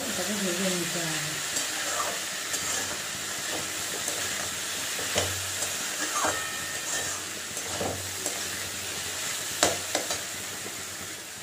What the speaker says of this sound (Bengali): ডালটা দেওয়ার পরে দু তিন মিনিট আরও এটাকে ভেজে নিতে হবে।